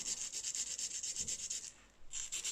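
A ceramic piece is hand sanded with sandpaper in steady, rhythmic back-and-forth strokes, soft and close, with a brief pause before the rubbing resumes.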